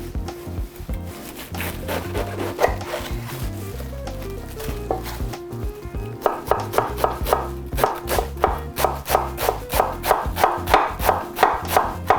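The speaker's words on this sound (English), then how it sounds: "the first thing I'm going to do is cut this cabbage" A knife chops through cabbage on a cutting board in steady, close, rhythmic strokes that quicken into a fast, even beat partway through.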